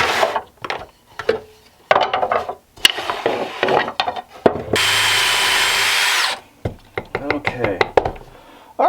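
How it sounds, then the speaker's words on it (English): Wooden dowel pieces are cut with a power tool for a steampunk birdhouse. Short clattering bursts and handling knocks lead to a loud, steady whine of about two seconds, followed by more brief knocks. "I'm going to go ahead and cut some dowel pieces"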